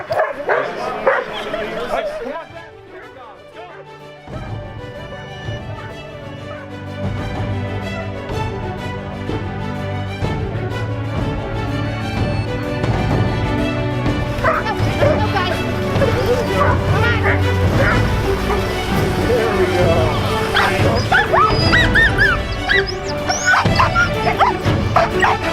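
Team of sled dogs at an Iditarod qualifying race checkpoint in Alaska, barking and yipping excitedly in a loud, overlapping chorus that rises in intensity, with people talking over them.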